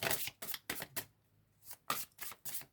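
Tarot cards are shuffled close by in quick riffling bursts, several brisk flutters broken by a brief pause, with no talking.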